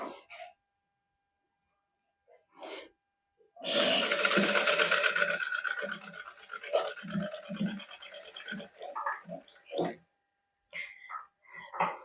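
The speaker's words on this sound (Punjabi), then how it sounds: "ਇਸ ਤਰ੍ਹਾਂ ਇਹਦੇ ਉੱਤੇ ਸਲਾਈ ਲਾ ਲਾਂਗੇ" A sewing machine stitches a lace strip onto a fabric band for a suit sleeve, a burst of rapid mechanical whirring that runs in bursts between short pauses, with someone speaking briefly before and after.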